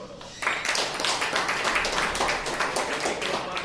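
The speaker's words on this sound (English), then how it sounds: "Let's give a round of applause" Audience at a Toastmasters club meeting breaks into applause after a brief quiet start, a dense, steady patter of clapping that fills the room at moderate loudness for the rest of the moment.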